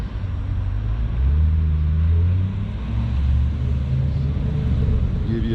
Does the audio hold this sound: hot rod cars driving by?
yes